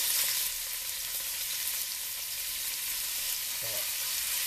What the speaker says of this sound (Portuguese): aqui nós vamos fritá-la e ela vai deixar aquela rapinha no fundo da panela